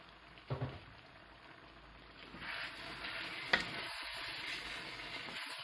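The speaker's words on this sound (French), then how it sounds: "on va verser un petit peu d'eau, ça permet de pré-cuire les lentilles" Water poured onto lentils cooking in a pan gives a soft, brief hiss and sizzle, with a small clink near the start and a sharper tick midway, all fairly quiet against the low background.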